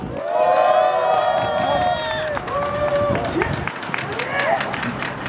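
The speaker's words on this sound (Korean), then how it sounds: "큰 박수 부탁드립니다." An audience applauds at an outdoor press conference opposing a pumped-storage dam on the Seomjin River in Gurye, with scattered moderate clapping that builds in the second half among voices and other background sounds.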